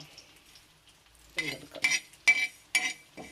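Fenugreek seeds dry-roasting in a tava, a few short bursts of rattling and scraping as a spoon stirs them, with faint clinks between quiet gaps.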